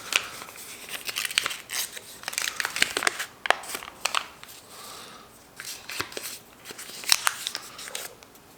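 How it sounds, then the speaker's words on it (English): Paper crinkled and rolled up by hand in a garage during a 1JZ engine install on a 1988 Toyota Supra, a close series of dry crackling crumples and scrunches coming in uneven bursts, with a few sharper crunches. "I'm gonna get a piece of paper and roll it up in here."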